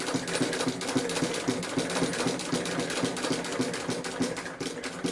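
An industrial sewing machine stitches heavy outdoor gear fabric at slow speed, with a steady, fast mechanical clatter of needle strokes running continuously at close range.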